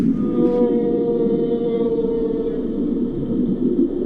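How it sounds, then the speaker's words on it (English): A humpback whale sings underwater in Virgin Islands waters, a long steady moaning tone with layered harmonics that holds for several seconds over a low ocean rumble, loud and unbroken. "Humpback whales pass through the Virgin Islands every year, and their songs are astonishingly complex."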